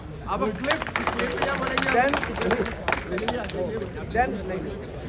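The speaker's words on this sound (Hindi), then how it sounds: "तालियां" Audience clapping at an admin meet-up event, scattered sharp claps running throughout, mixed with crowd chatter and voices talking underneath.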